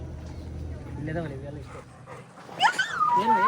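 Dogs, including a Labrador and a husky, at a small park zoo near Nandi Hills in Bangalore give short whimpers and yips close by, mixed with people talking.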